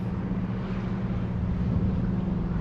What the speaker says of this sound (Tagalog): Sa mga nagje-jet ski.